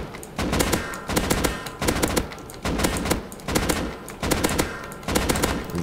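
Short, evenly spaced bursts of AK rifle fire in the survival game Rust, each burst a loud rapid rattle of several shots followed by a brief pause, repeating steadily with no talking.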